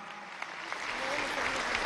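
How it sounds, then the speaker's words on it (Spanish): Congress audience at a plenary session applauds the admiral, a short burst of crowd clapping that swells and holds steady, moderately loud and diffuse. "vamos a darle un aplauso"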